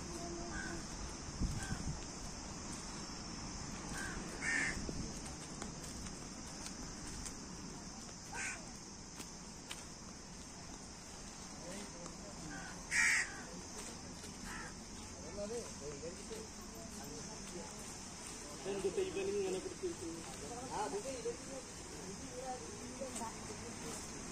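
Crows cawing now and then on a sunny seashore beside a temple, single calls scattered at mid distance over a steady background hiss, with a voice speaking briefly.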